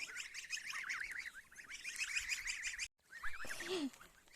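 Several geese honk loudly and repeatedly at close range, a chattering flock with one brief pause before the calls resume.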